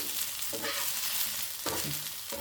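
Okra (lady finger) frying in a pan, a steady close sizzle with a couple of bursts of stirring.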